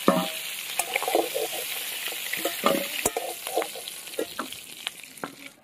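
Giant freshwater prawns fry in hot oil with a steady close sizzle, broken by several sharp clinks and scrapes of a utensil turning them in the pan; no voices.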